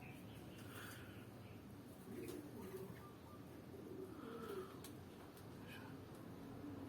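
A racing pigeon just home from a long-distance derby race coos softly in short low bursts, fairly faint against a steady outdoor background hum.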